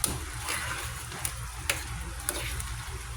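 Garlic fries in butter for buttered shrimp, giving a continuous close sizzle. A few sharp pops and clicks stand out from the steady frying hiss.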